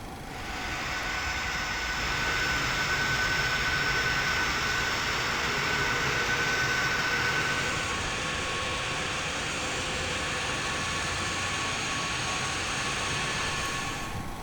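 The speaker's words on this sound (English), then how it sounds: "we are now ready to taxi to runway 34 for departure" IXEG 737 airliner jet engines drone steadily while taxiing to runway 34 in X-Plane, a continuous, even whine and rumble with no talking.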